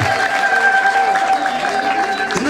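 A church congregation claps together in a dense, steady wash of applause with a sustained tone running beneath it, holding at an even level for the whole stretch.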